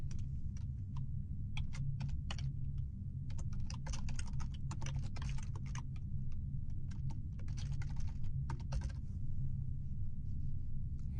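Keys on a computer keyboard are typed while a file name is entered, with quick irregular clicks in short bursts, close and quiet over a steady low hum.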